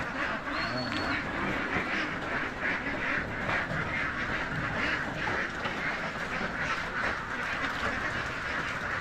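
Layer ducks quack steadily as a dense flock during loading at a Victoria, Laguna duck farm, a continuous loud chorus with no talk.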